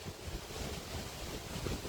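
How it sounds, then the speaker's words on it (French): Strong wind blowing outdoors, a steady broadband roar with rumbling gusts buffeting the microphone, continuous and moderately loud without any voices. "le vent commence à souffler très fort."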